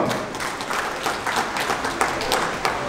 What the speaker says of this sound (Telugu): మేము కూడా తోడైతామని మాకు జత కలిసినందుకు మేము ఒకసారి చప్పట్లు కొడదాం